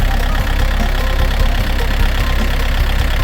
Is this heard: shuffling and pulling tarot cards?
no